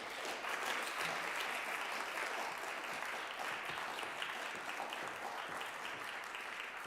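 An audience applauds to welcome Professor Daniel Chua at an academic lecture on global musical modernities. The clapping is steady and sustained, a full room heard from a moderate distance.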